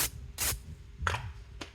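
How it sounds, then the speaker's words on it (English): Olive oil spray from an aerosol can misted onto steelhead trout fillets: four short hissing bursts, two long and two brief, up close, with quiet background noise between them and no talk. "I use the olive oil spray because it works well as a binder"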